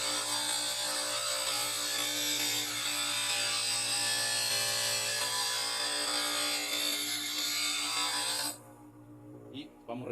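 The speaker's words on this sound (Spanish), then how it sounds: "siempre se recomienda primeramente en rectificar con el esmeril lo que es la punta" A lathe gouge tip being ground on a bench grinder for woodturning, a steady loud broadband grinding hiss that runs continuously for about eight seconds, then cuts off abruptly into near quiet.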